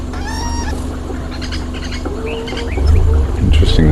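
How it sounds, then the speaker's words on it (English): Agitated cuckoo calls, repeated harsh notes from several birds in trees nearby on a safari, over a low steady background hum. "Hear the agitated call of one of the cuckoos in here."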